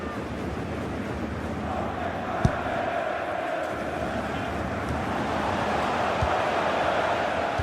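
Stadium crowd in the FIFA 18 football video game rises in a broad, sustained roar of cheering that swells slightly toward the end, with a sharp click partway through.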